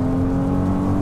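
A Ferrari 296 GTB on a racing circuit gives a loud, steady, close engine drone with a strong sustained tone and no voices over it.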